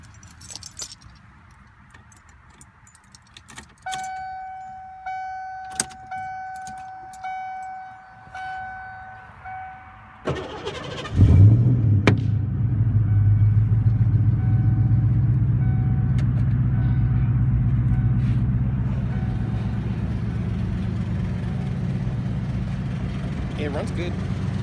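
A 1990 Ford Mustang GT 5.0 V8 cranks and fires up about halfway through, then settles into a loud, steady rumbling idle; before that, faint clicks and a tone are heard, and speech-like sounds occur.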